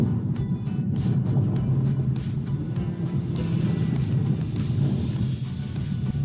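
Turbocharged engine of a 2025 Audi RS3 sports car drones steadily from inside the cabin while driving, a loud continuous low rumble with faint rhythmic pulses and no talking.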